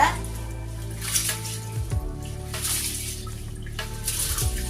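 Rice and urad dal being washed by hand in a vessel of water: continuous sloshing and splashing, with a few louder swirls and pours, close by.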